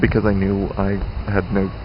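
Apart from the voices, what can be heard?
No distinct noise like a dog, phone or traffic.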